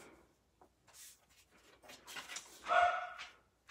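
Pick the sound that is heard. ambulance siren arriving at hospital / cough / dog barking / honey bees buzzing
dog barking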